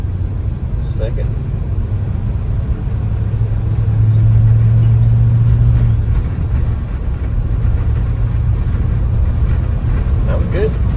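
A Dodge D100 truck engine drones with a low, steady rumble from inside the cab, swelling briefly in the middle as it runs through a gear change.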